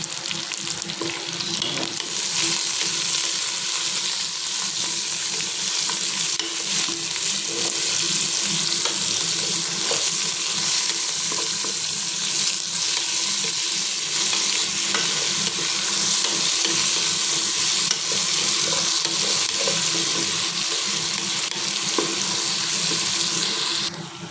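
Garlic and onion sauté in a pan for chicken kinamatisan, a constant loud frying hiss and crackle filling the whole stretch with no voices heard.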